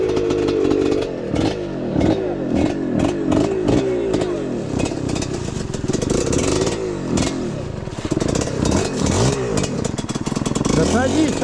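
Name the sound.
old moped engine starting and revving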